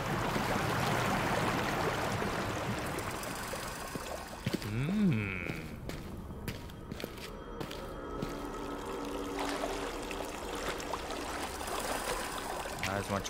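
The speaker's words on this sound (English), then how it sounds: "Oh, it's letting the water flow out too." Water pours and trickles out steadily in Amnesia: Rebirth, a continuous mid-level wash of flowing sound that carries on throughout, with occasional sounds and voices over it.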